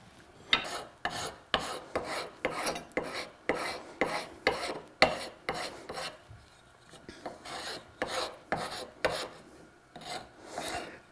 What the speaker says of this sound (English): So what I'm going to do now is take my rasp and start to remove some of these marks.